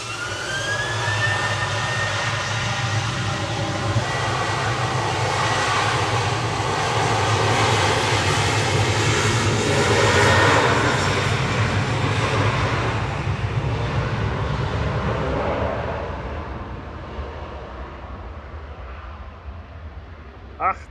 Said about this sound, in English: Right, there's SPRSW departing now.